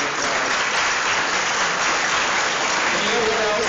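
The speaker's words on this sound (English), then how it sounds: "Yes, give him a round of applause." Loud, steady audience applause fills the room without a break, dense and sustained throughout with no voices standing out.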